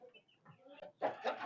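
Backyard homestead chicken flock clucking and murmuring close by, a few soft scattered calls building into a louder burst of overlapping clucks near the end.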